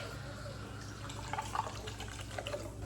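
Water poured into a pot of rice being cooked as red rice with tomato, a faint, close splashing pour lasting a few seconds with a couple of brief louder trickles.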